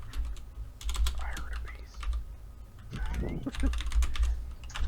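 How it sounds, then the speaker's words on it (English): Steady clicking of typing on a computer keyboard, close and fairly loud, in quick irregular runs of keystrokes with brief pauses, while people talk in the background during a tabletop role-playing game session. "I'm typing away."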